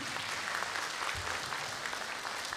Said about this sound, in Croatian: Pozivam vas, aplauz za sve njih.